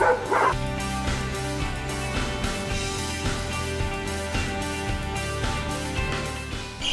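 Dogs bark repeatedly at an elephant sanctuary in Chiang Mai, a string of sharp, fairly close barks and yips that carry on throughout over ambient outdoor noise.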